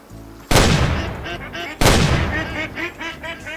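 Two loud gunshots ring out in the hunting game Way of the Hunter, each a sharp blast with a decaying tail, followed by rapid nasal duck quacks in the background.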